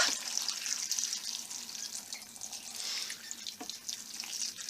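Tap water runs steadily into a soup pot layered with kale and potatoes for a frugal German kale soup, a close, continuous splashing and gushing stream with no talking.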